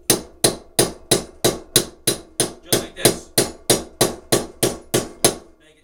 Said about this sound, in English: then you want to take a hammer and you want to tap it.